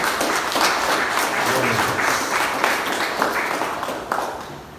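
Sustained applause fills a church service at an Assembly of God congregation in Brás, Jardim Conceição, a dense steady wash of many hands clapping for nearly five seconds, loud and close, with faint voices mixed underneath.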